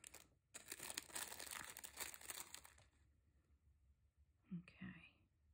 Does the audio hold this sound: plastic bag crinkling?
yes